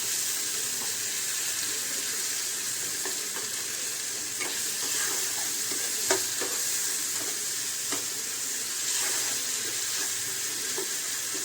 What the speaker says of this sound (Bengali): এবার এগুলোকে ভালো করে একটু কষতে হবে।